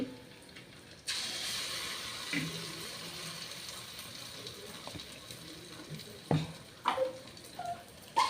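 Water poured into a cooking pot in a home kitchen, a steady splashing rush that starts abruptly and runs for several seconds at moderate loudness, with a few clinks and knocks near the end.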